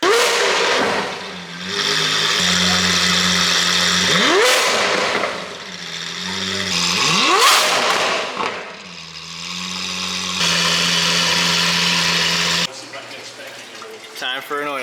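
A Lamborghini V10 with a newly fitted exhaust revs repeatedly, each blip rising sharply and falling back to idle, loud and close, with a brief lower rumble near the end.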